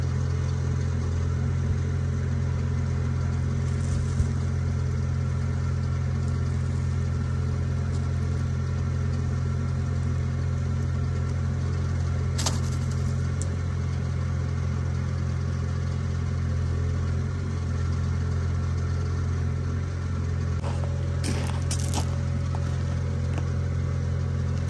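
A skid steer engine runs steadily at a low, even rumble while pulling winch cable off a John Deere 450 dozer, continuous and moderately near with a few faint clanks.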